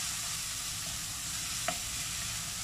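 Grated onion frying in a pan for a spicy quail egg masala, a steady even sizzle throughout with one faint clink partway, no talking.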